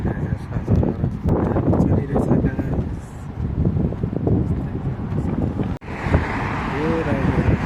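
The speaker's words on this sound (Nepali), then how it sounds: "पुरा हावा चलिरहेछ" Strong gusting wind on an open seashore roars into the microphone almost without pause, loud and close, with a brief drop near the end before the buffeting resumes.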